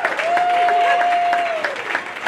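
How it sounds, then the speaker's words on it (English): A party crowd claps in a round of applause after a game, loud dense clapping with a sustained whistle-like tone over it, then trailing off into scattered claps. "big round of applause"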